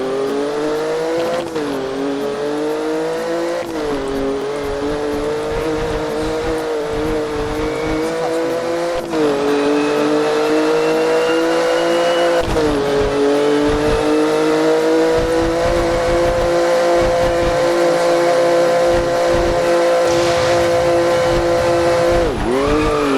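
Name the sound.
sports car engine revving in Roblox Driving Empire video game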